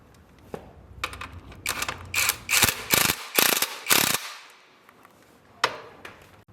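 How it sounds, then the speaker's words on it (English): Socket wrench ratcheting as it tightens the hex shoulder bolt of a motorcycle side stand, an Xpro DB-K020 / S3-125 fitting: bursts of sharp, close clicking bunched together, then fading to a few isolated clicks. "fasten the side stand with an M17 socket wrench"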